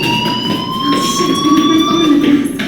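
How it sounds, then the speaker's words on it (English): A school fire alarm in the video game Life Is Strange rings loud and steady, a continuous electronic whine with layered tones that holds unbroken throughout, with no voices over it. "Hey, do you hear that fire alarm?"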